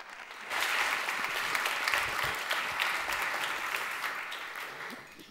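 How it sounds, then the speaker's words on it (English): Audience applause as a speaker joins the stage at a panel event, swelling quickly into steady, full clapping from a sizeable crowd and fading gradually toward the end. "big hand of applause."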